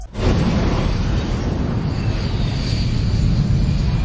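A military aircraft in a film roars past at close range, a loud, broad, continuous engine rush that holds steady from start to end with no voices.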